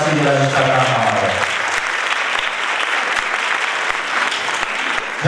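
Loud, sustained audience applause fills a hall at an international dance festival, rising over the fading tail of music and continuing evenly.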